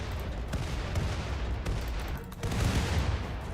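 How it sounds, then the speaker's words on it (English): Dense, continuous barrage of game weapons firing in RimWorld's Medieval Overhaul mod, missiles and gunfire blending into a steady rumbling crackle that swells louder near the end, with no talk. "let's see about using our missiles here and here"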